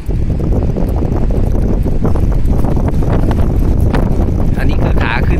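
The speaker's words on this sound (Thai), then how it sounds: "ลมก็พัดสวนทางเลยครับนี่ต้องใช้ เรือลากถึง2ลำครับ" Strong headwind roaring into the microphone on the water while two tugboats tow a sand barge, a steady loud blustery rush with engine rumble beneath, continuous throughout.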